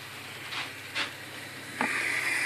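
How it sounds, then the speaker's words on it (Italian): Steam machine hissing while steaming a damaged PLA bracelet: brief soft bursts of hiss, then a steady, louder high-pitched hiss that settles in and continues, with no talking. "Esperimento questa macchina per fare il vapore"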